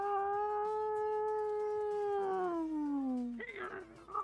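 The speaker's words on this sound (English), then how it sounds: "Do you guys hear a cat or something?" A cat's drawn-out meow with a steady, slowly falling pitch, held for about three seconds, then a rougher, brief cry at the end, close and fairly loud, heard during a PurpleRP roleplay game session.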